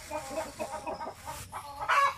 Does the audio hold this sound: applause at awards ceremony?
no